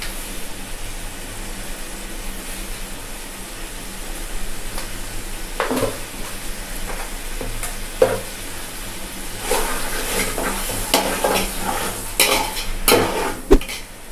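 Mushroom biryani ingredients are stirred in a sizzling pan, with a steady frying hiss under intermittent scrapes and clinks of a utensil against the metal, growing busier toward the end; no one speaks.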